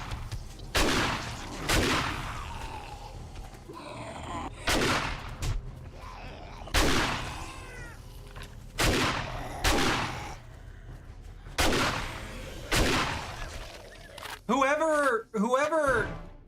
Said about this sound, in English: Whoever designed the shotguns for this game, why make them dissipate their impact on soft targets outside of 5 meters?